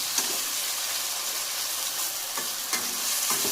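Chicken curry stir-fries on a stove at high flame: a loud, constant hissing sizzle with a few quick scraping stirs breaking through, with no voices.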